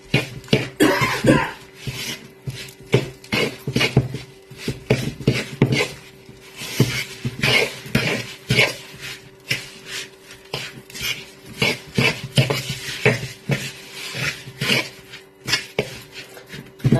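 Meatball mixture bound with egg is worked in a bowl, giving a dense run of wet rubbing, squelching and scraping strokes, close and continuous, with a faint low hum underneath.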